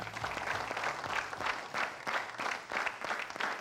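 Loud applause from a studio audience on an Indian TV game show, rhythmic bursts of clapping pulsing in waves, with a low musical tone fading under the first second.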